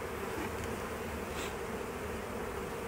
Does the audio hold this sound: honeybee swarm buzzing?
yes